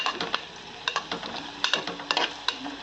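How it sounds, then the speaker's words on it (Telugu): Onions frying in a pan for a cauliflower tomato curry, a soft sizzle broken by sharp, irregular stirring scrapes and clinks, close up and without talk. "నా ఉల్లిపాయలు ఏగుతున్నాయి"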